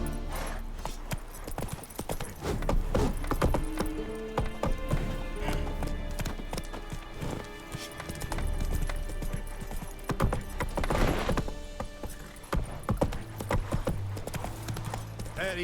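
Roach, a horse in The Witcher 3: Wild Hunt, gallops in a steady rhythmic clip-clop of hooves over ground for about fifteen seconds, with occasional snorts and game ambience underneath.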